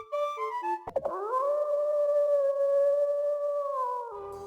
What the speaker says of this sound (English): So I did hear it. Wolves, they must be after the horse.